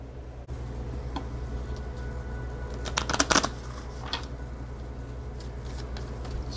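Moonology oracle cards are shuffled by hand in a quiet room, a soft riffling and flicking with a brief louder burst of card slaps in the middle over a low steady hum.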